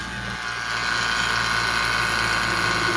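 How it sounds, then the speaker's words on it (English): A powerful vacuum pump evacuating the air-conditioning system of a Ford Mustang during a compressor replacement, running as a loud, steady mechanical drone that holds constant throughout. "This is a powerful pump."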